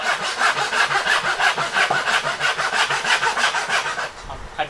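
A hand saw cuts through wood in quick, even back-and-forth strokes, about a dozen rasping passes close by, before the sawing stops near the end.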